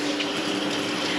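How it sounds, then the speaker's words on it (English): Water runs hard from a kitchen tap at strong pressure, a loud, steady rushing gush that fills the whole short stretch with no break. "the water pressure is different than the one upstairs"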